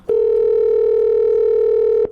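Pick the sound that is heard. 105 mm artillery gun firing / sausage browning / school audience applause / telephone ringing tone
telephone ringing tone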